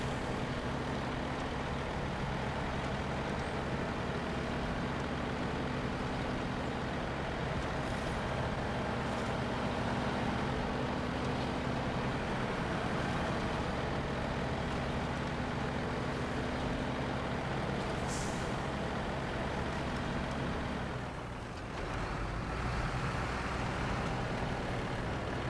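A heavy truck on all-terrain tires grinds off-road through deep mud in Snow Runner, its engine droning steadily and loudly with a brief dip and rumble near the end, no talk over it.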